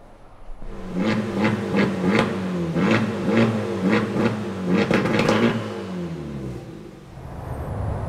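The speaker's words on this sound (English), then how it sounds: "we're gonna put the exhaust on like this and see what it sounds like" A Honda Civic Type R engine with a modified exhaust revs repeatedly in loud, close rising bursts, about eight pulses in a steady rhythm before settling back to a drone, with no talking.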